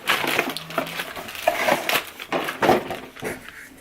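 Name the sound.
unwrapping plastic packaging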